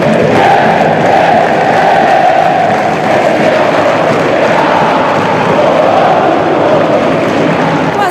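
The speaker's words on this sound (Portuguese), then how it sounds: "a torcida incentiva" A packed football stadium crowd at Independência during an Atlético Mineiro match roars steadily and loudly, a dense sustained wall of cheering and chanting that holds for the whole stretch.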